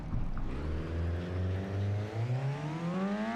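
A KTM racing motorcycle on a video-game track day revs up, its engine note climbing steadily in pitch as it accelerates. The sound is clear and continuous, with no voices.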